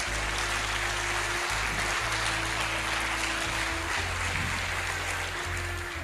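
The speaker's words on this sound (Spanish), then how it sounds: "Denle un aplauso al Señor." A church congregation claps together during a Sunday sermon, a steady wash of applause filling the room over a low sustained organ or keyboard drone, with no talking.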